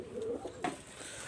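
A female pigeon coos softly, a short, quiet burble lasting about a second against low background noise.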